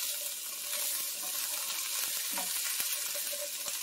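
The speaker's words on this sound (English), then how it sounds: "Mix this all together." Tunisian spiced fish stew with potatoes, zucchini and garbanzo beans being stirred in a pot, a steady soft sizzling hiss with a couple of faint knocks from the spoon, fairly quiet and uninterrupted.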